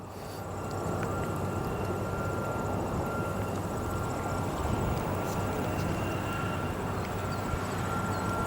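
Airplanes at O'Hare International Airport at sunset: a continuous, fairly distant jet roar holding steady throughout, with no voices.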